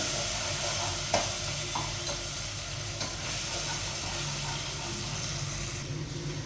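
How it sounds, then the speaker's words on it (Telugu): Ginger garlic paste frying in a pan gives a steady, dense sizzle and hiss throughout, with a few faint clinks of stirring. "అల్లం వెల్లుల్లి పేస్ట్ అయితే బాగా ఫ్రై అయిపోయింది"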